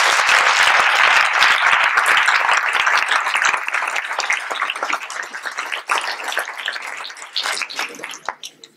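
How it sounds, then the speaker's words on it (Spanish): Strong applause from a school audience at a farewell speech, dense and loud at first, then thinning into scattered individual claps over about nine seconds. "Dadles un aplauso fuerte."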